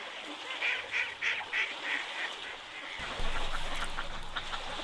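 Mallard ducks on the water give a run of five or six rhythmic, fairly close quacks, followed by quieter scattered calls and rustling.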